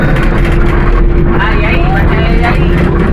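Cars driving on a road during a family outing in Lampung, a loud continuous engine and road rumble, close by, with people talking over it.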